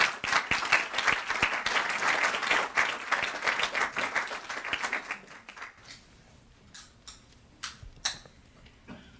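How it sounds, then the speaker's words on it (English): Audience applause for a speaker coming forward at a homeland security talk: a dense burst of clapping that fades after about five seconds into a few scattered claps. "Please give her a warm round of applause."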